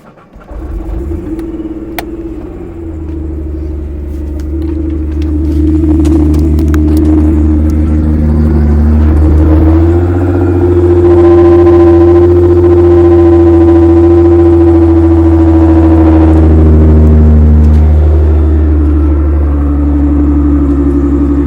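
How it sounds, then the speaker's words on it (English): A Nissan GTR race car engine idles with a deep steady rumble, then revs up and holds higher before settling back, loud and close throughout with no voices. "I'm going to show you guys that the car does run."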